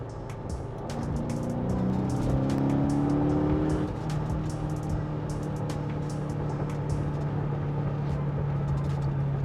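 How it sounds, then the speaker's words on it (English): Mercedes E55 wagon with a 6-speed manual climbing through the gears, the engine note rising in pitch, pausing at a shift, then settling into a steady loud drone. "Nice rev matching on the downshifts, and then that mid-range punch."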